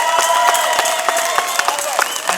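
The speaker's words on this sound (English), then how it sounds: "So I'd ask everybody to join me in a big hand of applause for Kevin." Crowd at a Bill C-51 protest rally applauds, a dense patter of claps with scattered sharp hand strikes and some voices mixed in, steady and fairly loud for a few seconds.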